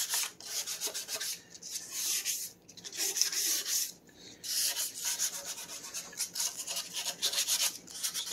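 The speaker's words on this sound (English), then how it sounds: "Do a little sanding off camera here." Steady rhythmic rasping of sandpaper scrubbing a hard 3D-printed plastic part, close and continuous, with a couple of brief pauses between passes.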